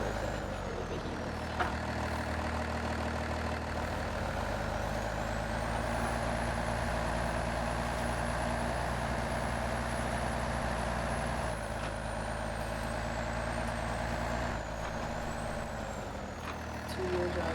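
A heavy truck engine labours while stuck in snow in the SnowRunner video game, stuck in two-wheel drive, droning loudly and steadily throughout, with a whining pitch that rises and holds.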